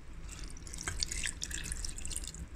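Vinegar and water are poured into a pot of paksiw, a thin splashing trickle with dripping and bubbling liquid, close and continuous, with no talking.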